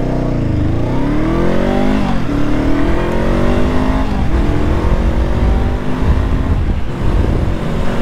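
A Honda CL500 motorcycle accelerates hard from a standstill in a 0 to 100 run, loud and close, its engine rising in pitch through several gear changes in a steady roar.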